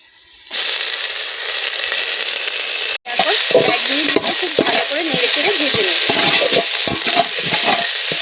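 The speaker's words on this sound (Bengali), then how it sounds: "আদাটার কাঁচা গন্ধ যাওয়া অবধি খুব ভালোভাবে ভেজে নিয়েছি" Ginger paste frying with onions in hot oil, a steady loud sizzle that starts abruptly, breaks for a moment, then returns with scraping stirring strokes over the continuous crackle; no talking.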